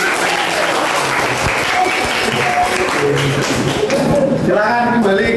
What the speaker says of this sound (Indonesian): sudah beri tepuk tangan